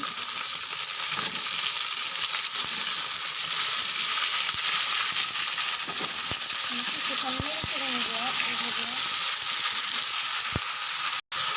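Chicken sizzles in a pan under a constant hiss, with a few sharp clicks of a utensil and a faint murmur partway through.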